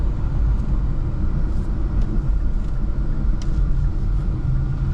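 Steady low road rumble inside a moving 2024 Infiniti Q50 Luxe sedan, an even cabin drone with faint engine hum and no talking.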